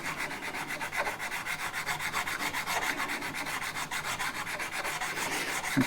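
Steady rasping sandpaper strokes on the wooden body of a Fender Mexican Stratocaster electric guitar during a setup, close and continuous in a quick rhythmic back-and-forth, with a brief spoken word near the end.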